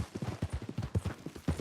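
Horse hooves from the video game Red Dead Redemption 2 clip-clop in a quick, steady rhythm of close, clear hoof strikes, with no voices.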